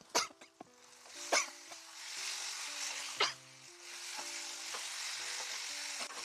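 Amla pulihora, a tamarind-style rice dish, is stirred and mixed in a pan, with close scraping strokes and a few sharp clinks of the spoon against the pan over a soft sizzling hiss, alongside a brief tonal beeping.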